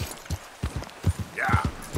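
A horse in Red Dead Redemption 2 clip-clops at a walk, with a steady rhythm of close, muffled hoof thuds and a brief whinny-like squeal partway through.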